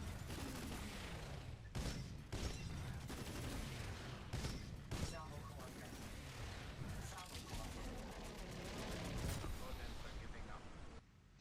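The Tone titan's cannon and missile barrage in Titanfall 2 pound out in heavy booming bursts and quick rattling volleys, loud and continuous, with a narrator talking over the barrage.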